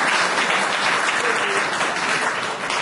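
An audience applauds at a speech during an oath ceremony in Paris, dense steady clapping that fills the space loudly and evenly throughout, with no voice over it.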